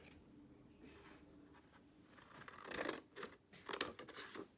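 Quiet snipping and rustling of scissors cutting paper, a few irregular crisp cuts growing louder toward the end.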